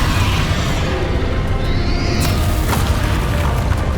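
Spell explosions from Bombarda and Confringo in the video game Hogwarts Legacy, a dense, continuous rumble of booming blasts with whooshing bursts layered over each other at steady high loudness, no speech.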